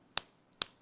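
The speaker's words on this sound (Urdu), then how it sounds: "یہ سیدھے ہاتھ کو الٹے ہاتھ پہ ماریں گی،" Two sharp, dry slaps as the right hand strikes the back of the left hand, close and crisp, spaced about half a second apart in an otherwise quiet space.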